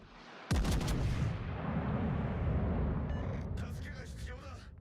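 The battleship Yamato fires its big naval guns in a video game: one sudden heavy boom followed by a long rumbling roar that slowly fades, with brief voices near the end.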